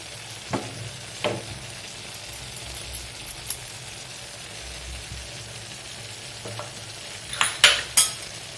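Cashews, almonds and raisins being stirred while frying for sabudana kesari bath, with a spoon scraping and clinking against the pan in a few sharp strokes over a low steady sizzle, no voices.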